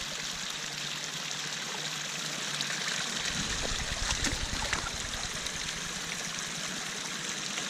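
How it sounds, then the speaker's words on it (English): Creek water runs steadily through a mini high banker set up in the creek, a continuous rushing trickle that grows fuller and splashier partway through, close and alone with no talk. "So I've got the mini high banker set up now out in the creek."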